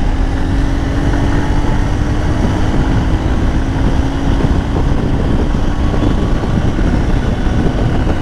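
Loud, continuous engine roar from Honda Hornet and other motorcycles in a drag race fills the air, a dense steady drone with no pauses or voices.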